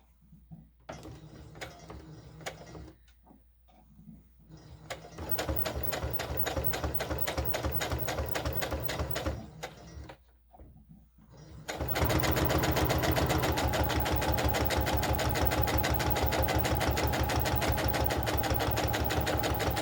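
A home sewing machine stitches a 1/4 inch seam on a Burda 8843 doll bodice in short, start-stop bursts of rapid needle clatter, then settles into one long, loud, steady run for the final stretch.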